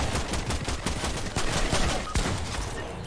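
Gunfire in the battle-royale video game Fortnite during a squad match, with dense overlapping shots crackling throughout at a steady, fairly loud level and no talk.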